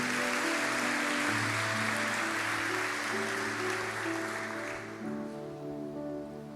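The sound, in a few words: church congregation applauding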